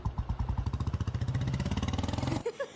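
A motorcycle engine runs close by with a steady, throbbing pulse for a little over two seconds as the bike is parked, then cuts off abruptly, leaving a brief quiet tail.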